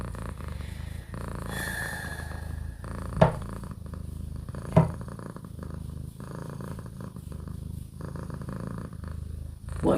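A cat purrs loudly and continuously up close in a rough, rumbling rhythm, with a couple of brief sharper clicks partway through and no talking.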